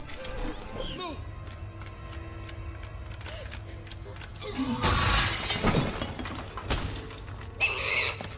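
Glass shatters loudly in a sudden crash with scattering fragments in a Lego Jurassic Park video game, followed by a second smaller burst, over a low background hum.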